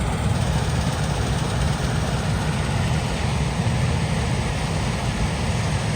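A farm engine on a cold, foggy day, recently burnt out at the self-starter and kept running so it isn't shut off, idles with a dense, steady low rumble, loud and unbroken for several seconds without talk.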